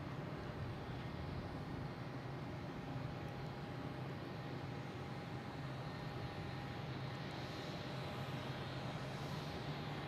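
JetBlue Airbus A321 arriving from Las Vegas at Boston Logan International Airport, heard as a steady, fairly faint, distant broadband jet roar with a faint constant tone, continuous with no talking.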